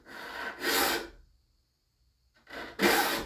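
A hand file rasps across the teeth of a sawmill bandsaw blade in two close, scratchy strokes separated by a short silent pause.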